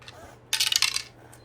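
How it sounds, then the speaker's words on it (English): Dice for a savings-themed board game tumble and clatter across a hard surface in a quick burst of sharp rattling clicks, close and clear, then settle into quiet. "I'm gonna roll my dice."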